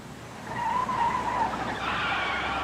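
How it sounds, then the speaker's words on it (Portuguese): Car tires squeal and skid under hard braking, a loud, sustained screech that shifts higher partway through against steady road noise. "Chefe está derrapando."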